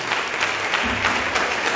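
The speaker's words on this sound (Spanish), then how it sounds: "Vamos a darle un fuerte aplauso a Jesucristo." Applause from a church congregation fills the space, a steady wash of many hands clapping at a fairly loud level with no talk over it.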